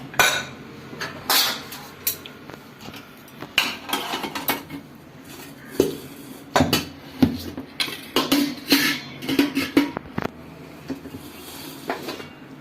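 A container of dough is lifted out of a cooled pressure cooker with repeated metallic clanks, knocks and scrapes of pot and lid, close up and uneven over several seconds, with no speech.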